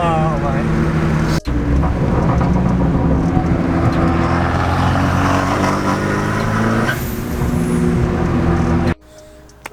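A Fiat 500 Abarth on a test drive with freshly installed BC coilovers, its engine droning steadily from inside the cabin with shifting tone and a brief drop in level, while people talk over it.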